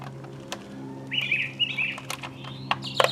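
Songbird chirping and warbling outdoors in bursts, with a steady low hum underneath.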